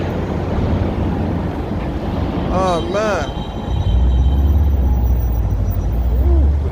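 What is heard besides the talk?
wind outdoors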